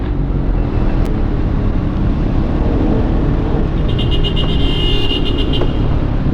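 Dense road traffic on EDSA in heavy congestion, a loud continuous rumble of car and motorcycle engines heard from close by, with no one speaking.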